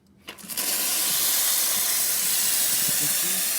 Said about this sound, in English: you can see it's steaming quite well